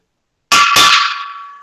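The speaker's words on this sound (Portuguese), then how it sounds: "Esse é o barulho de um extintor de água." A metal fork strikes a water fire extinguisher: a sharp metallic clang rings out twice in quick succession, then a bright bell-like tone lingers and slowly fades.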